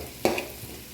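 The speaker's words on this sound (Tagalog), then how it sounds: "Ilalagay na natin yung mushroom." Mushrooms drop into a frying pan for shrimp pasta, giving one sharp hit followed by a quick sizzle that settles into quiet frying.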